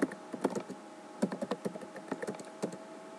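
Rapid, uneven keystrokes on a computer keyboard, a close and fairly quiet clatter of separate taps bunched into short bursts, with no voices.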